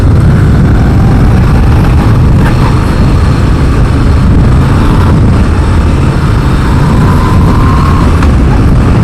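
A Moto Guzzi V7 Stone motorcycle engine pulling in fourth gear under load, a loud, continuous low drone with steady throbbing and rushing wind noise throughout.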